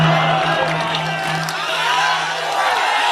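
An audience at a poetry recital breaks into loud, continuous applause and cheering, a dense wash of clapping with scattered whoops and a voice mixed in.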